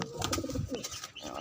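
Pigeons coo close by in a short burst of soft, throaty, bubbling calls, several quick warbling notes running together over a quiet background.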